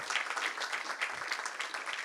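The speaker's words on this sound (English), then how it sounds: "So round of applause to Ishta as well." Audience applause at a programming competition finals, a dense steady patter of many hands clapping at close range for the whole short stretch.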